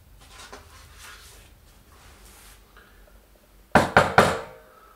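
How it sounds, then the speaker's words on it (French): Three sharp knocks on a door land in quick succession near the end, loud and close after a few seconds of quiet room tone. "On frappe à la porte."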